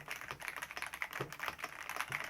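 Rapid typing on an F87 Pro mechanical keyboard, a quick run of crisp, clacky keystrokes close up and fairly quiet, with no talking.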